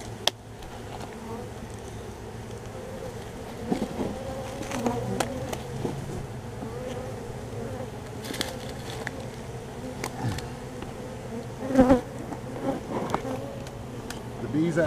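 Bees buzzing steadily around a hive set up inside a bird house, a dense close drone of many insects with brief louder passes near the microphone.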